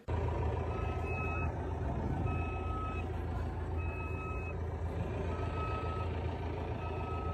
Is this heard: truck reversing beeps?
yes